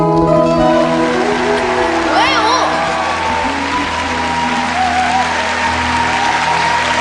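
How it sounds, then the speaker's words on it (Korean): A studio audience at a televised KBS music show applauds after a song, a broad, sustained wash of clapping under a voice speaking over a microphone. "여러분 다시 한 번 큰 박수 부탁드리겠습니다"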